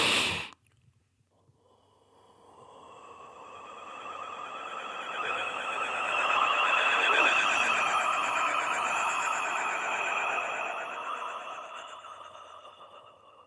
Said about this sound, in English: I call it overtone breath.